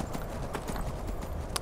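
A horse's hooves clip-clop through snow in Skyrim, a soft, irregular run of muffled thuds under a steady wash of background noise.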